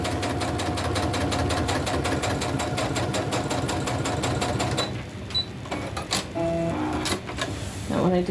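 Close, steady rhythmic whir and rapid needle clatter of a sewing machine stitching a scrap crumb quilt block, running continuously for about five seconds before stopping, followed by quieter handling clicks and brief tonal beeps.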